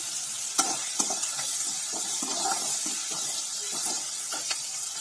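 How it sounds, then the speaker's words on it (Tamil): Chopped onion and tomato sautéing in a pan, a steady soft sizzle with occasional scraping stirs and light clinks of the spoon against the pan. "வெங்காயம் தக்காளி நல்லா வதங்கட்டும்"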